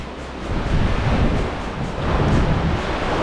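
Sea waves surge and churn inside a rock sea cave on Paros, a steady, loud roar of water with heavy wind buffeting the microphone throughout.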